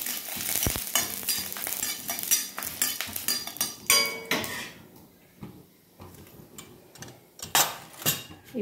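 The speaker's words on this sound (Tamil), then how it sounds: "உடச்ச உளுத்த பருப்பு போட்டுக்கலாம். கொஞ்சம் ஃப்ரை பண்ணிடலாம்." Split urad dal frying with mustard seeds and chana dal in a pan makes a close, crackling sizzle broken by a run of spoon scrapes and metallic clinks that pause briefly before resuming.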